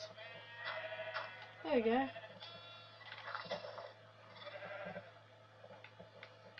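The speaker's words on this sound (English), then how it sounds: "Get out my way, sheeps." Sheep in the Minecraft video game let out a short wavering bleat near the middle, followed by softer bleats over a steady low hum, while someone talks briefly.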